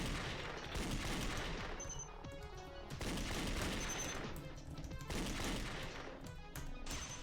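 Rapid bursts of gunfire in the video game Danganronpa Another, dense and loud, in several clusters across the stretch with brief lulls between them and crash-like booms mixed in.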